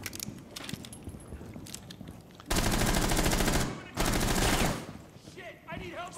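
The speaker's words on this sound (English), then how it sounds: "Try firing in shorter bursts." Automatic gunfire in the tactical shooter Rainbow Six Siege rattles out in two loud rapid bursts of about a second each, with scattered smaller shots and clatter before and a brief electronic chirping after.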